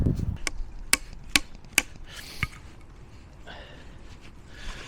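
A hand blade chops wooden stakes outdoors in the woods: five sharp, close strikes in quick succession, then quieter rustling and handling afterward.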